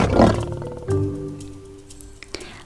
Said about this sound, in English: I hear a lion roaring in my ear